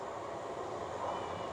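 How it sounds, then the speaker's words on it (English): A train rumbles steadily as it approaches a station on a Lake District line, a continuous broad roar heard fairly faintly with no clear peaks. "Right, our train is approaching."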